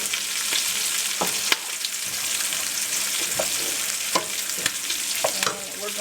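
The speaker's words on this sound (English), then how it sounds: "got some flour bits there that I need to toast up." Flour bits toasting in a pan with bacon, a steady close sizzle and crackle with occasional scraping stirs and light clinks.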